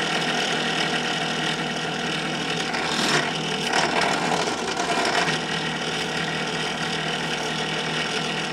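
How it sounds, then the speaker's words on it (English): Wood is sanded by hand on a tool shelf with a steady, close, dry rasping scrape that swells briefly midway and then settles back into an even rubbing texture. "I'm gonna sand it again."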